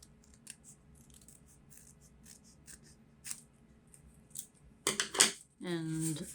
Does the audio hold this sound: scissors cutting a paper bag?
yes